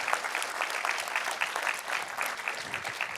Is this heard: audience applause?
yes